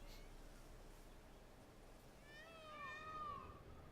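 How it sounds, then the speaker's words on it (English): A peacock call in the Witcher 3 game that sounds like a cat meowing: a few wavering, rising and falling cries over the second half, moderately loud above a steady low ambient bed, with no talking. "it sounds more like cat meowing, but I don't know, maybe that's the way peacocks actually sound"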